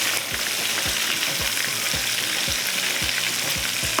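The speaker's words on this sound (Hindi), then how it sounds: "तो थोड़ा सा आपने इसको इस तरह से घुमाते जाना है, ताकि चारों तरफ से ये अच्छी तरह से फ्राई हो जाए" Brinjal frying in a hot pan and being turned: a loud, constant sizzle with a regular scraping stroke of the spatula about twice a second.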